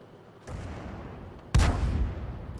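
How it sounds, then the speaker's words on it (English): Tank cannons exchanging fire in World of Tanks, with a 105 leFH18B2 in the battle: a muffled distant boom followed by a louder, closer heavy blast with a rumbling tail. "they're now exchanging fire"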